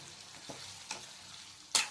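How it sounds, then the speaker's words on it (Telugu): Fried chicken being stirred and tossed with a little food colouring, giving a soft continuous sizzle with a few scraping clatters of the spoon, the last one louder and sharper. "వేసి బాగా మిక్స్ చేయాలండి."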